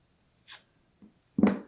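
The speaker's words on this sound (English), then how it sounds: "I'm going to use the softer side of my scraper" Paper petals for a paper hellebore flower are curled against the soft side of a scraper, making three short, dry scraping strokes spaced apart in a quiet room, the last one loudest.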